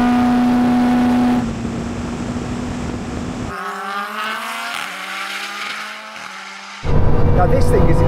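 A Bugatti Chiron Super Sport and a Lamborghini Huracan accelerate hard in a drag race, loud engine roar climbing through rising gear-change whines and shifting revs, heard from inside one car, ending in a louder burst of engine and wind noise.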